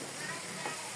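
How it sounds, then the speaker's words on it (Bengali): Chopped potatoes tossed in spiced oil in a pan, a brief, soft, steady frying sizzle with faint stirring, quiet and close. "তেলে মাখা মাখা করে নাড়াচাড়া করে নেব একটু, যেন মশলাটা আমার পুরো আলুটাতে"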